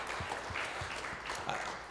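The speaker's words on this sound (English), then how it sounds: "Yes, you can clap, that's fine." A church congregation at an annual general meeting claps briefly, soft scattered hand claps blending into light applause at a moderate distance.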